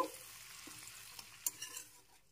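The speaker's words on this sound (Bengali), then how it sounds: "ভালো করে ফোড়নটাকে ভেজে নিতে হবে।" Whole spices for a Bengali phoron temper fry in oil, giving a soft, steady crackle broken by a few sharp spoon scrapes and clinks, close and fairly quiet, with no talking.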